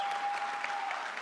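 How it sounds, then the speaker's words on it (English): Steady audience applause fills a university lecture hall during a campus discussion event, a dense wash of many hands clapping at moderate level, fairly distant, with no speech over it. "I appreciate the applause."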